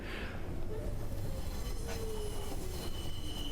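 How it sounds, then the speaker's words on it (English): A train in the video game 428: Shibuya Scramble pulls up to a station platform, wheels squealing steadily in a high, drawn-out whine over a dense rolling rumble, close and continuous throughout with no voices. "The train glided up to the platform."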